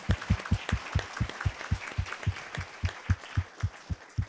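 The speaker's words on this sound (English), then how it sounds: "Please give them a round of applause." Rhythmic, fairly steady clapping comes from an audience at a City Club justice forum, with individual claps distinct and evenly spaced, more like a small group than a large crowd.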